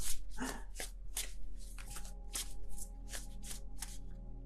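Crisp, quick riffling bursts of tarot cards being shuffled repeatedly, close by and fairly quiet, with a low steady hum underneath.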